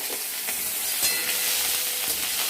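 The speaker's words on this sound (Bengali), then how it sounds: "এবার লাল লাল করে ভেজে নেব।" Crushed garlic with dried red chillies and nigella seeds fries in hot mustard oil, a steady close sizzle with a few soft stirring clicks.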